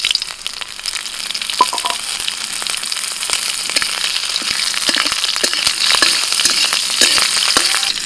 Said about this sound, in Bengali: কড়াই সর্ষের তেল দিয়ে দিচ্ছি, ফোড়নে দিচ্ছি জিরে, কাঁচা লঙ্কা,